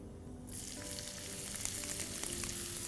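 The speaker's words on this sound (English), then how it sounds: "So in this hot oil, I am going to put some cardamom pods, like 3, and 2 small sticks of cinnamon" Onions hit hot oil already holding cardamom pods and cinnamon sticks, setting off an abrupt, loud, close sizzle that keeps crackling steadily after a quiet moment at the start.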